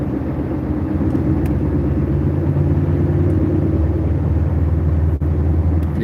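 Bus passing on a quiet, nearly empty city street: a loud, continuous low engine rumble that holds steady for several seconds, close by, with no talk over it.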